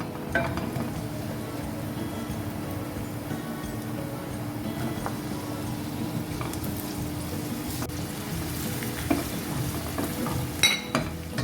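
Finely chopped onion frying in oil for a dal tempering, giving a soft, steady sizzle with occasional stirring and light clinks of a utensil against the pan, no voices.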